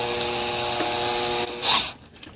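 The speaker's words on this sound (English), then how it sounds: "I've got it on the drilling holes, not driving screws mode, on 1, power level 1" A cordless drill set to drilling mode at power level 1 spins steadily while winding up drip irrigation tape, a continuous motor whir that cuts out near the end, followed by a brief rustle.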